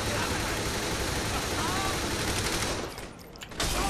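Sustained SMG fire in Saints Row: The Third, a dense continuous rattle of rapid shots that breaks off near the end, with other game noise mixed in.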